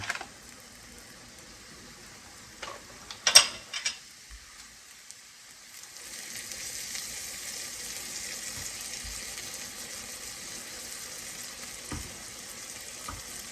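Pancakes fry in butter in a pan with a soft, steady sizzle, preceded by a few clinks and scrapes of a utensil against the pan.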